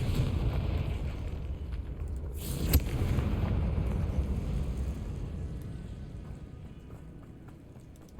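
A Confringo fire spell in Hogwarts Legacy bursts in one sharp, loud explosive crack partway through, rising over a low rumbling background that gradually fades after the blast.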